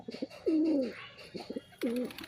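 Cooing of local Giribaz pigeons, with two clear, rolling coos standing out over softer, shorter murmured notes from the birds nearby.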